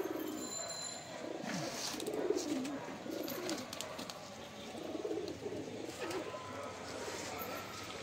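Pigeons coo softly in a loft, low repeated murmuring calls at a fairly quiet level, with faint background noise and a few light chirps.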